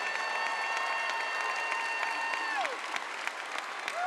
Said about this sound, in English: let's give them a great round of applause to thank them for the support they've given you